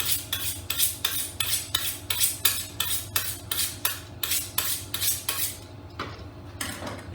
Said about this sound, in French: Et avant de le couper, je vais affiler mon couteau.